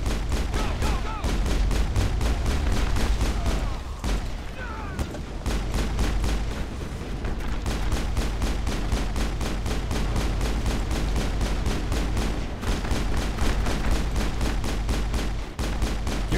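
Rapid, sustained pistol gunfire from a Mass Effect firefight indoors, dense repeated shots at steady close range throughout, with brief lulls and occasional heavier booms mixed in.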